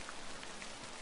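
Rain in the Sound of Drop; Fall Into Poison visual novel game, a faint, steady hiss of falling rain across one short second with soft droplet textures and no voices.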